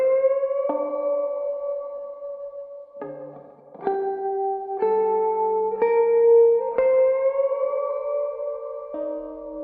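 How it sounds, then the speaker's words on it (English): Sustained musical notes drenched in added reverb, each sliding into the next with a lingering echoing tail; tonal, clear and fairly loud, with no voices. "Now let's add this reverb and see if we can feel anything different."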